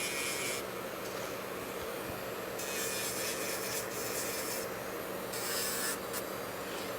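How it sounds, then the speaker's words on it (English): A coarse sanding band buffs fingernails during a manicure, giving a faint, steady rasping rub close to the microphone with slight bursts of stronger grinding. "So I'm using a coarse sanding band."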